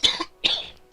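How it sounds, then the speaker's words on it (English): Two rough, hoarse coughs from one person, close and loud, the second more drawn out, with no other voices. "That one's a sick cough"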